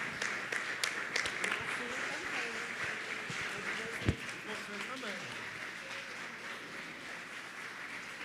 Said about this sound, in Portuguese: a gente vai aplaudir pela vida deles também